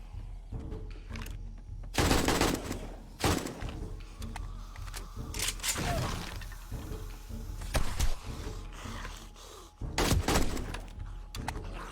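Dense, heavy gunfire with armor-piercing ammo in the survival video game 7 Days to Die: rapid bursts of shots and impacts over a constant noisy game background, with loud volleys at the start and near the end.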